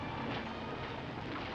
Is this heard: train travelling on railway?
yes